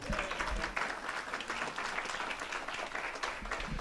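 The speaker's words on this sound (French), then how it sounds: "on peut applaudir Jésus" Church congregation applauding in praise of Jesus, a steady wash of many hands clapping at moderate level, dense and continuous for several seconds with no talk.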